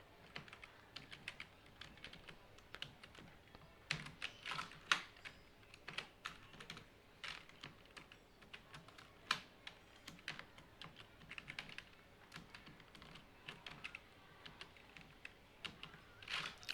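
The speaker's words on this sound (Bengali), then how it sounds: "হ্যালো ওয়ার্ল্ড লিখলাম।" Fingers type steadily on a computer keyboard, entering simple hello world code. The soft, quiet key clicks come in uneven bursts with no talking.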